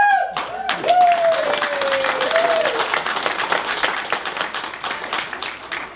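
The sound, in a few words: audience applauding and cheering a speaker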